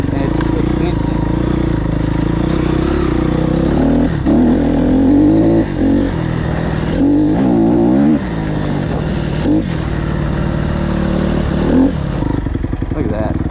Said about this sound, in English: The way this is geared, it's not got a lot of top end, but it's got a freak ton of torque and it's instant.